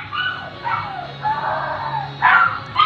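A dog barks and yips close by in a home, a series of loud, high-pitched barks and whimpering yelps in quick succession.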